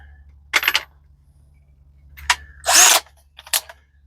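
A handheld power drill spinning in short bursts: several brief whirring pulls separated by pauses, close and fairly loud, with light clicks and handling noises in between.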